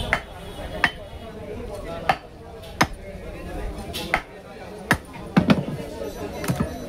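A knife chops fish at a Bangladeshi fish market: sharp, regular blows land roughly every second, with a quicker cluster near the end, while people talk and market noise hums underneath.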